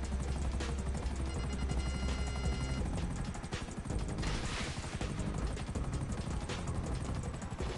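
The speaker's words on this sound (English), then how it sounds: "Can you catch up to me and take out this chopper that's shooting me up" A helicopter gunship firing in GTA V, with a constant rotor and engine roar under dense bursts of rapid gunfire and impacts, loud and close throughout.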